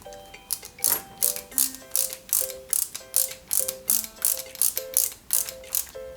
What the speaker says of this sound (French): tout d'abord on monte la plaque d'immatriculation, enfin la plaque 300 SL à l'arrière avec deux vis JP